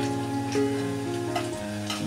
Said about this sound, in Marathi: आता मी या पुऱ्या तळून घेते। एक एकच पुरी तळून घ्यायची।